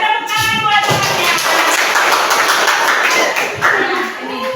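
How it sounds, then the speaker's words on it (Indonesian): Classmates in a classroom clap for a peer, a short burst of group clapping mixed with voices talking over it. "Kasih tepuk tangan buat temannya."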